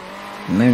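A race car engine in a top-down racing game rises in pitch as it accelerates off the start, a brief close revving burst following a quieter moment.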